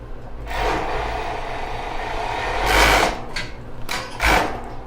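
A sewing machine stitches along the edge of an elastic lace bra in short bursts, a steady whirring run followed by two brief louder spurts near the end, close and alone with no talk.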